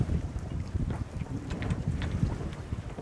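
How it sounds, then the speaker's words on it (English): Sails flog and rattle on a sailboat in light wind at sea, a dense irregular flapping and creaking under steady wind rumble on the microphone, with no voices. "I don't know what's more annoying, the sound of flogging sails or the engine."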